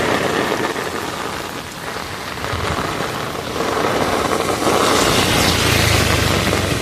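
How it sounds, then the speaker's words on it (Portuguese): Heavy rain pours in Verdejante in the Sertão, with strong wind, a dense, loud, unbroken roar that swells slightly toward the end, and no voices. "Chuva foda aqui em Verdejante nesse momento"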